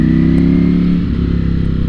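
Ducati Streetfighter V4 S motorcycle engine, loud and close, a deep throbbing burble low in the rev range, with a slight dip in pitch about halfway through.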